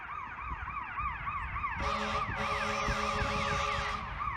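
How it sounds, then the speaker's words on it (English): A wailing ambulance siren rises and falls repeatedly, fairly close, joined midway by a second siren pattern and traffic rumble. "Apparently there is an ambulance."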